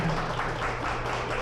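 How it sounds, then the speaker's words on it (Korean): An audience at a regional education forum breaks into brief, dense applause to open the event, steady clapping filling the room at moderate distance. "큰 박수로 문을 열어보도록 하겠습니다"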